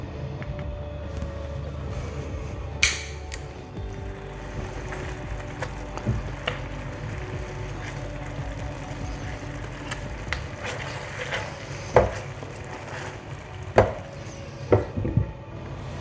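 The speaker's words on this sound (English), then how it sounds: "So I'm going to cover this with a lid and I'm going to cook that off" Chicken cooking under a lid in a pan with a creamy Pedro Ximénez sauce, a steady low sizzle and rumble with occasional clicks and clatters of the lid and utensils.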